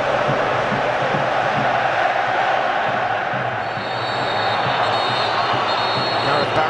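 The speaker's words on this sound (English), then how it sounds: "Steve McLaren appealed for big backing from the Wembley crowd" Wembley football crowd roaring steadily throughout an England versus Croatia match, a dense, continuous wall of cheering and chanting from a huge stadium audience with no clear pauses.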